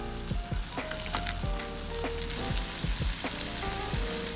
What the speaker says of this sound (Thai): ย่างไก่บนกระทะเพื่อให้ได้ความกรอบเล็กน้อย